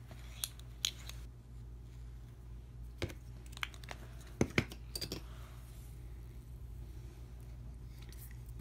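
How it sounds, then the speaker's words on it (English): Sharp scissor snips cutting a piece of sewing thread about 12 inches long, a few separate close clicks spread over a quiet room hum. "what I have to do is cut a piece of thread"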